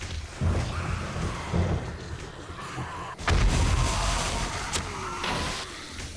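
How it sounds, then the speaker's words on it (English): Several booming explosions go off during a horde night in the video game 7 Days to Die, with Undead Legacy mod, moderately loud thuds with one heavier blast midway over a rumbling background. "let's get some explosions going here"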